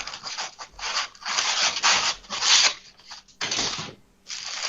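Polystyrene packing foam from a heavily battered parcel being rubbed and handled indoors, giving a series of close, bursty squeaky scrapes and rustles with short pauses between them, no talking.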